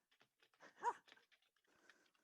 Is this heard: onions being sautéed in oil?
no